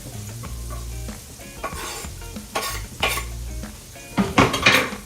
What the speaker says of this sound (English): as that is sauteing rather quickly, now we're going to add our garlic